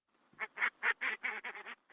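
Ducks quacking close by in a quick series of loud, nasal calls, about eight bursts in a row with short gaps.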